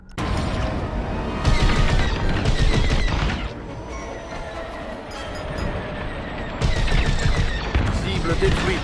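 Starfighter cannons blast in rapid bursts during a Star Wars Squadrons space battle, with dense rattling fire, engine roar and radio chatter in French layered over the loud action.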